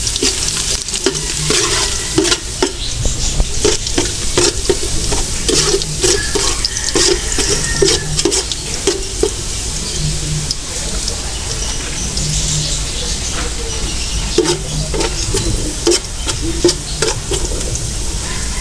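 Garlic frying and browning in a pan, being stirred for a birthday celebration meal cooked outdoors, a continuous close sizzle with scraping stir strokes and faint water sounds in the background.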